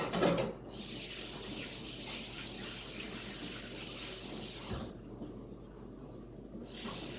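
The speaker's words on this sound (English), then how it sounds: "I'm going to go wet my hands again. Put this in the sink." Water runs steadily from a kitchen sink tap while hands are wet during low-carb pizza dough making, a close continuous hiss that briefly cuts out and then resumes.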